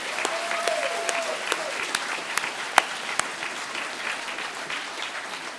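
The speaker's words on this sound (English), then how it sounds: "keep clapping" Audience at a school's end-of-year assembly applauding, a sustained roomful of clapping with a few sharp, close individual claps and faint whistle-like tones standing out.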